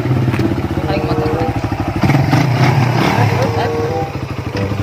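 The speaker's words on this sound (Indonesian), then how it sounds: "Paling motor." A motorcycle engine putters close by with a rapid, rough pulsing that swells in the middle and then fades slightly, as people talk over it in a rural village setting.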